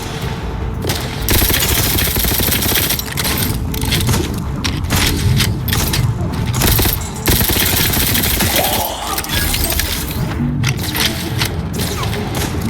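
Sustained gunfire in Outer Worlds 2, a dense stream of loud shots and booming thuds with only brief pauses, close and continuous.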